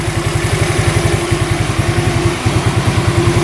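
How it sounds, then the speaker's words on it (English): A free used scooter engine, once written off as unfixable, idles steadily up close with an even, rapid putter and a faint ticking pulse throughout, no voices over it. "Engine sounds awesome. No ticking, no rattling,"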